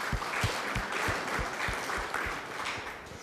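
Audience members at a community Safe Streets meeting clap in a fairly quiet, dense patter, with a few heavier, regular thumps from nearby hands standing out.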